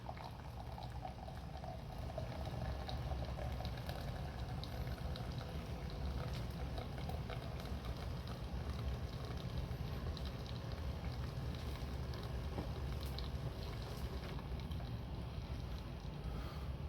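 A De'Longhi Dinamica Plus bean-to-cup espresso machine brews a double espresso, giving a steady hissing, bubbling hum that runs unbroken and fairly quiet from start to finish, with no voices.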